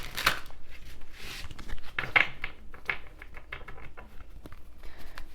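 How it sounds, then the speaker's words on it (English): Tarot cards are shuffled by hand nearby, a series of soft, irregular riffling and slapping bursts with short pauses in between. "Let's do some more shuffling."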